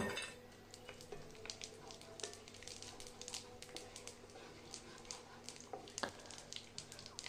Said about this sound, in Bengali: এবার এর মধ্যে দিয়ে দেবো শুকনো লঙ্কা, তেজপাতা আর গোটা জিরা ফোড়ন দিয়ে দেবো।